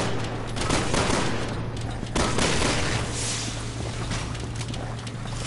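Gunfire from Leon's gun in the Resident Evil video game: shots blended into a dense, steady roar of noise, with a few sharper bursts standing out near the start and middle.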